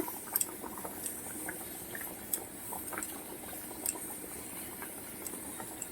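Katla fish and potatoes simmer in a curry, a soft steady bubbling with scattered small pops and drips, close and quiet, with no talk.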